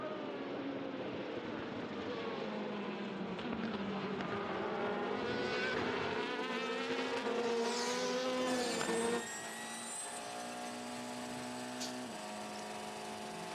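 Le Mans race cars overtake at high speed with loud, rising engine roars and shifting pitch as they pass. The sound drops abruptly to a steadier, quieter drone partway through.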